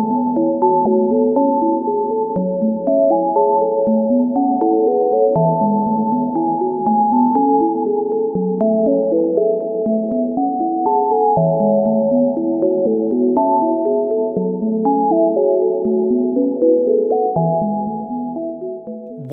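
The built-in synthesizer of the ZOA generative MIDI sequencer app plays a continuous stream of soft, overlapping pitched notes in shifting arpeggiated patterns, steady and clean with no voices.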